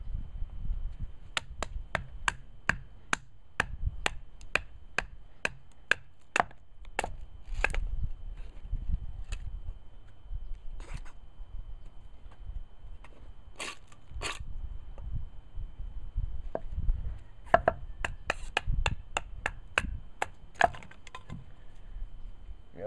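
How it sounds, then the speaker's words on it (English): A knife is batoned through a piece of wood, making repeated sharp knocks and splitting cracks in irregular bursts with short pauses, close and fairly loud. "I'm going to start batoning at this one."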